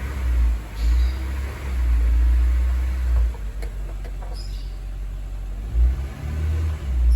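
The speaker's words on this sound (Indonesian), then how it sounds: "Kita tekan pedal gas penuh, RPM hanya naik sampai dengan 2500 RPM." A Honda Mobilio/Brio with its check-engine light on and a fuel-injection fault revs as the gas pedal is floored, though it climbs no higher than about 2500 RPM. The engine drone swells and falls in several close, steady surges.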